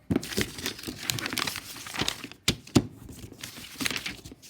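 Paper or craft material crinkled and folded by hand for a homemade puppet, close crackling and rustling in irregular bursts with a couple of sharper crinkles, no talk.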